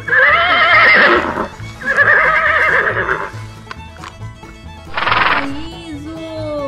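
A toy horse plays a loud electronic neigh followed by a short burst of clip-clopping hooves and another whinny, close up, with a faint voice in the background.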